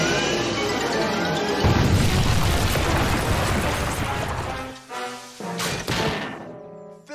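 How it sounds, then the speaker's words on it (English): Cartoon laser cannon firing and exploding, a loud sustained blast and roaring rumble that breaks into crashing bursts and crackling debris toward the end. "Fire the laser cannon."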